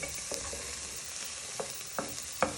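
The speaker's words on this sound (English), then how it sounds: "So we're going to cook our spices first, after when we have fried the red onion and garlic" Red onion, garlic and spices frying in a pan for spicy rice, a steady broadband sizzle with a few sharp stirring clicks and scrapes spaced through the stretch, no talking.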